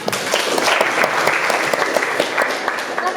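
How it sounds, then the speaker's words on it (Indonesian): A classroom audience at a teacher-training performance assessment claps after a presentation, producing steady, dense applause that stays loud from start to finish, with some voices faintly mixed in. "Berikan aplaus"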